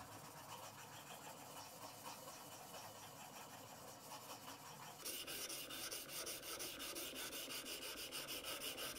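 Chisel held at a fixed angle in a honing jig, rubbed back and forth on the fine side of a sharpening stone, giving a steady close rasping scrape that grows brighter and louder partway through.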